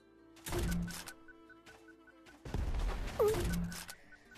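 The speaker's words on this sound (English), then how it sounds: "But here's what the grenade does." Grenade thrown in the Gun Raiders shooter game, heard as a short thump and scatter of impacts followed by a second louder burst with a sharp ringing tone, game noise underneath between the two events.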